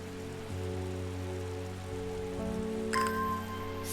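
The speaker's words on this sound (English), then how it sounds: "it's gently raining outside" Gentle rain falls outside in the Strange Horticulture video game, a soft, steady patter under layered sustained music tones, with a brief chime near the end.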